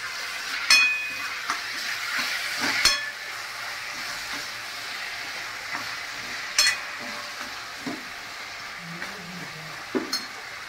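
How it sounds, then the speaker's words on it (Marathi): Tomato hitting hot oil with onion in a pan for Kolhapuri misal, a continuous close sizzle broken by a few sharp clinks and stirring knocks. "आता याच्यात टोमॅटो घालायचा."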